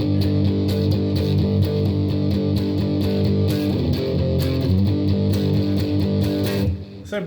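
An electric guitar with overdrive plays a verse rhythm, chugging thick, sustained power chords in a steady pattern for several seconds before the last chord cuts off.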